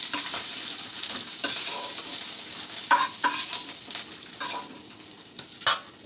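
Potatoes frying in hot oil for a paneer and parwal masala curry, a steady close sizzle with scattered stirring clinks and scrapes from a spoon against the pan, no talking.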